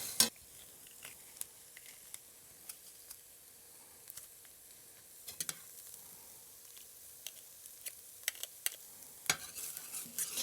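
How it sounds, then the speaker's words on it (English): Onions and garlic sauté quietly in a pot for Persian lentil soup, a faint steady sizzle with scattered spoon clicks and scrapes, close and without voices. "So first up, I'm sort of sauteing off these onions."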